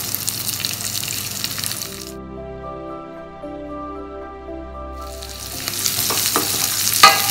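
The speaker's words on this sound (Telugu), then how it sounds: "ఇవన్నీ ఫ్రై అయిన తర్వాత సన్నగా కట్ చేసుకున్నాను ఆనియన్స్ ఉల్లిపాయలు" Ginger, curry leaves and sliced onions fry in a pan with a loud steady sizzle that drops out for a few seconds, replaced by a tonal hum, then returns with crackles and spatter.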